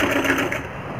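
A sewing machine stitching the frill of a round-neck blouse, running in a brief, steady, loud close whirring hum.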